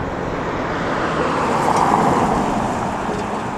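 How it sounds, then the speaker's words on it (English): Dense, loud roar of rush hour road traffic in Los Angeles, cars rushing past in a continuous wash of engine and tire noise that swells briefly near the middle. "there are just a zillion cars now because it is rush hour"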